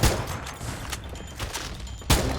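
Rapid gunfire bursts in the Free Fire shooting game, with loud clustered shots near the start, scattered reports in the middle and another heavy burst near the end, no speech.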